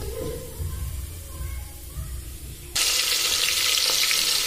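Cumin seeds hit hot oil in a pressure cooker on a gas stove and burst into a loud, steady sizzle partway through, preceded by quieter kitchen background.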